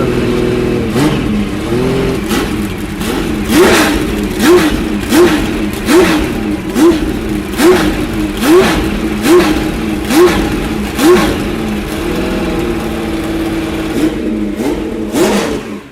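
A Porsche 917 racing car's flat-12 engine revs hard and repeatedly, each throttle blip rising and falling in a steady rhythm of sharp surges over a continuous loud mechanical roar, close and with no voices.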